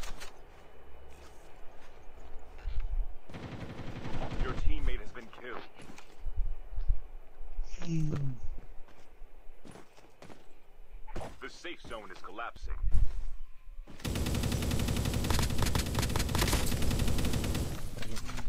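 Gunfire in the online shooter T99 rings out in rapid bursts and sustained automatic volleys, loud and dense toward the end, mixed with voices talking over the game.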